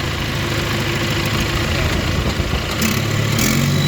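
A John Deere 450C crawler track loader's diesel engine idles steadily at low revs, a deep, even rumble with mechanical vibration heard close up from the operator's seat.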